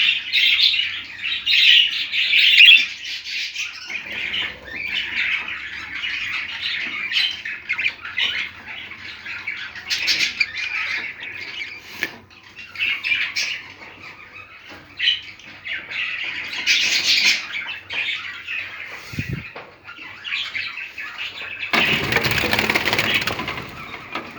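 Pet budgerigars and their chicks squawk and chirp in a home breeding setup, a busy, continuous stream of shrill calls, with a few scratchy rustles and one louder burst of squawking near the end.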